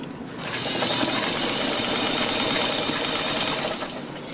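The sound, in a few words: vintage Sears Kenmore Model 1120 sewing machine stitching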